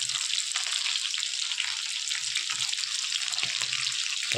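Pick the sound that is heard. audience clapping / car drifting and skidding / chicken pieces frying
chicken pieces frying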